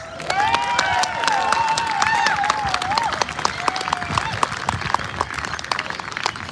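Crowd at a blockade launch applauding as speaker Greg Mullins is introduced, dense loud clapping with some cheering and whistles, continuous and close.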